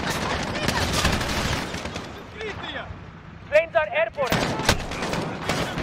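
Gunfire in Call of Duty Modern Warfare during a fight around buildings: rapid bursts of shots crack close and loud, with sharp whizzing impacts in the middle and a steady battle din beneath.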